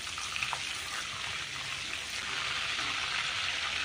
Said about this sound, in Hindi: जीरे को हल्का सा रोस्ट कर लेंगे।